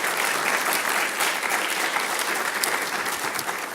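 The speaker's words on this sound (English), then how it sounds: "Please give him a round of applause." Steady, dense audience applause at an engineering event, many hands clapping together in a continuous wash at close range and fairly loud volume, with no voices on top.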